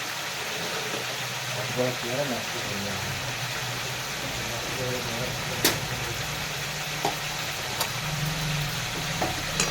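Goat meat being stirred with salt in a pan, a steady sizzle with light scraping and a few sharp clinks of a utensil against the pan, close and continuous.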